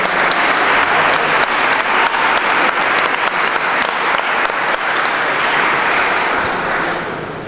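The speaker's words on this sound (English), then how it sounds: "Join me in a round of applause for all of our participants here this evening." Audience applause at an evening Washington County candidate forum: sustained, dense clapping from a large crowd, loud and steady for several seconds before tapering off at the end, with no speech over it.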